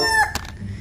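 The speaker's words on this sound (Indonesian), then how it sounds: "Wah, ini ada ayam berkokok." A toy rooster gives a short electronic cock-a-doodle-doo crow, a bright harmonic call under a second long, followed by a brief click and low background noise.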